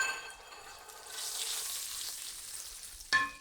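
Turmeric and Kashmiri red chilli powder with dried chillies frying in hot oil in a pan, a steady close hiss of sizzling that swells and holds, ending in a sharp clink of a utensil.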